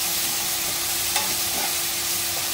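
Masala paste for gongura chicken frying in a hot pan as it is stirred, a loud continuous sizzle with faint scraping from the spoon, no talk.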